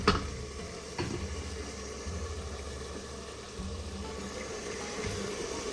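Water trickles into a pan of frying lauki (bottle gourd) and chana dal, a steady low wash with a faint sizzle beneath, with a couple of soft knocks early on and no voices.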